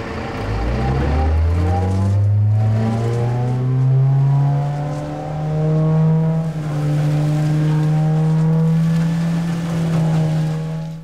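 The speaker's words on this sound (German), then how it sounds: "Der Laubsauger ist ein umgebautes Müllfahrzeug." A large 14-year-old leaf vacuum truck, converted from a garbage truck and used for autumn street cleaning, runs its powerful engine and suction blower: a loud, steady droning hum rises in pitch and then holds, close, with no talk.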